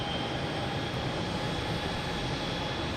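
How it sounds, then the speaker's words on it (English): A JetBlue Airbus A220 lands at Boston Logan Airport, its engine roar a steady, broad, continuous rumble with no breaks. "Look at this JetBlue. Flight 1354. An A220 coming in from Reagan."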